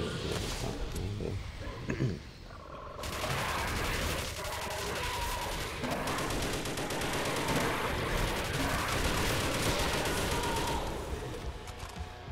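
Commander gun firing very rapidly in Call of Duty custom zombies on the Neighborhood map, long loud bursts of fast automatic gunfire filling most of the stretch, with brief pauses and game effects around them.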